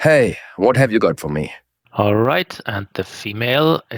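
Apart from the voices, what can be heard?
No distinct noise like a dog, phone or traffic.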